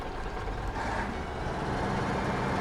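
Reversing beeps from a truck in the off-road driving game SnowRunner, set against a steady, loud engine drone that fills the whole stretch without pause; no one speaks.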